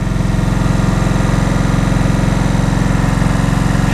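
A 2003 Kawasaki Vulcan VN1600 Classic motorcycle idles with a steady, rattly low-pitched throb and a loose mechanical clatter, running close and continuous throughout.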